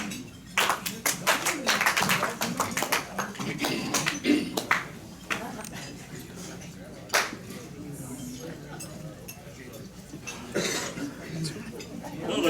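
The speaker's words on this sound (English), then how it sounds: "I guess that applause pretty much fit that recognition" Applause at a Rotary Club of Hickory meeting, a burst of close, sharp claps from a modest group for about three seconds, then a few stray claps and clinks as people talk.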